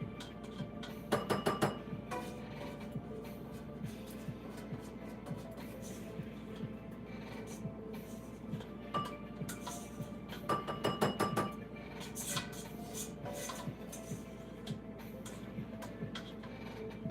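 A pan and metal utensils clink and scrape as sautéed onions are removed for broccoli cheddar soup, with faint, scattered clatter over a steady low kitchen hum.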